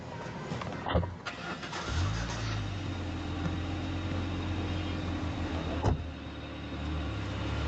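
A car engine cranks briefly and catches, then settles into a steady, close idle with a low rumble, marked by a couple of sharp thuds like a door closing.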